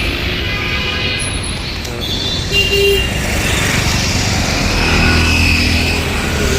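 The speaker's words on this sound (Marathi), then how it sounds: "एवढ्या तरी गाड्या आहेत, थोडं दाखवतो तुम्हाला." Busy road traffic of many vehicles heard on a walk home, a continuous loud rumble of passing cars, trucks and motorbikes with an occasional horn toot.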